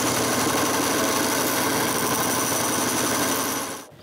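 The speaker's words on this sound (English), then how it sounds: "So I make the fingers with the bandsaw." A bandsaw cuts small finger joints for a little wooden box, giving a loud, steady buzzing whine that runs without a break for nearly four seconds and then cuts off abruptly.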